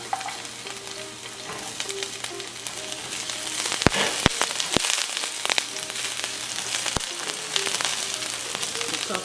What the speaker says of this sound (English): Saute it until golden brown.